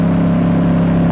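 A 2019 Ducati Diavel S motorcycle with a full exhaust system gives a steady, loud, low engine drone throughout, with no voices.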